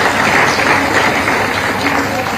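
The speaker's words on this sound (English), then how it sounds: "I think we should give a big round of applause to the faculty as well for preparing the videos." An audience at a youth parliament program applauds the faculty with a steady, dense round of clapping that fills the whole stretch evenly, loud and close.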